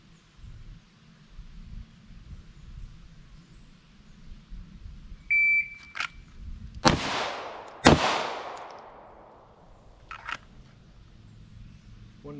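A short electronic timer beep is followed by two loud pistol shots about a second apart in a draw-and-shoot drill, each cracking sharply and ringing out in a long fading echo. Faint clatter and a quieter pop come later.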